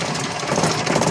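A steady whirring drone from the starter motor engaging on a Jodel D112 aircraft, loud and continuous throughout the short moment with no talk over it.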